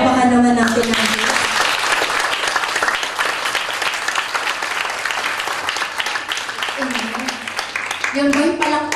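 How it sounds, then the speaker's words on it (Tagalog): A church congregation applauds during a sermon, a loud sustained burst of clapping that swells and holds, with a voice speaking before it starts and again as it fades. "Palakpakan naman natin ang Diyos."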